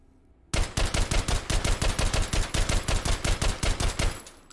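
Suppressed P762 rifle fire in the VR shooting game H3VR: a rapid, evenly spaced string of roughly thirty sharp, punchy shots lasting about four seconds after a brief quiet start.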